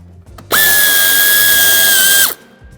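A power drill whirs loudly and steadily for almost two seconds, backing out a screw to take off the bumper of a BMW X5, starting and stopping abruptly in a quiet garage.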